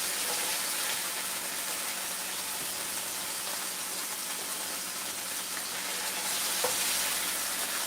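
Hot grease fries and sizzles in a pan of carnitas, a loud, dense, unbroken crackle close by with no voices over it.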